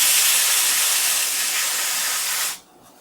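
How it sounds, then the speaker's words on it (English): A continuous close hiss of aerosol cleaner sprayed onto a Commodore 64 circuit board lasts about two and a half seconds, then stops abruptly. "so the way I do this is I just spray"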